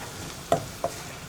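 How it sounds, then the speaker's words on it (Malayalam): Spice powders, including garam masala, stirred in a pan for egg curry: two quick, faint scraping strokes about a third of a second apart over quiet background hiss. "ഇതെല്ലാം ചേർത്ത് നന്നായിട്ട് ഇളക്കി മിക്സ് ചെയ്യുക"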